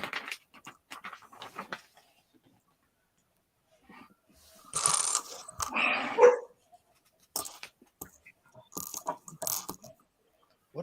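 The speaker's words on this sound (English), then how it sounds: "What are you barking at, dog?" A dog barks in short, sharp bursts at moderate distance, scattered between quieter rattling and clicking sounds nearby.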